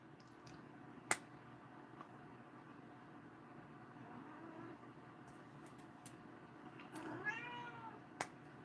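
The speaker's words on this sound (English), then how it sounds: "Stand there at the door and cry, you damn cats." Cats crying and meowing at a door indoors, a faint rising meow near the end over low room hum, with a couple of sharp taps.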